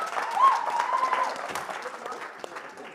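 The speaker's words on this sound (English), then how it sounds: "One bigger round of applause." Applause at a summit sounds faint and distant, a light patter of clapping from the audience with scattered voices over about three seconds.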